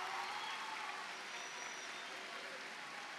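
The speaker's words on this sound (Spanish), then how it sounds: "Un fuerte aplauso para ellos." Audience applause at the opening ceremony of an international gathering, a steady, fairly distant wash of clapping from a crowd that stays even throughout, with faint voices beneath.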